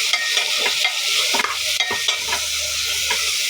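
Tomato frying in a pan for potato sagu, a loud, dense hissing sizzle with steady scraping stirs close up, no voices.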